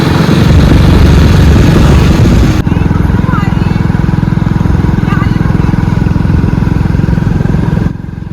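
A motorcycle engine runs loud and close throughout with a steady low drone, shifting tone after a couple of seconds as the bike gets under way, fading slightly near the end.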